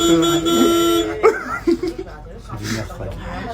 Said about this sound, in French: Allez, vas-y, klaxonne.